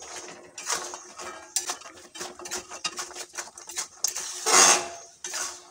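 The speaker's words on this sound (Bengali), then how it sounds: "গজাগুলো দিয়ে আমি নাড়তে থাকবো।" Fried gaja sweets are stirred in a pan, giving irregular metallic scrapes and clinks of a utensil against the pan in uneven bursts, close and moderately loud, with no voices.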